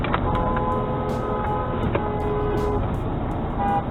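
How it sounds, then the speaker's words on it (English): Car horns honk from several drivers in traffic behind a blue Honda Civic, a series of short toots and a longer sustained blast, loud over steady road and engine noise. "This blue Honda Civic, who was our first traffic cheater, gets honked at by two different drivers"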